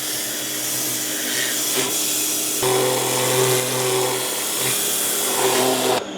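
A Stanley SXPW25 pressure washer runs with a steady, loud motor hum and hissing spray as it cleans a dirty wooden board, the tone shifting partway through as the jet hits the wood.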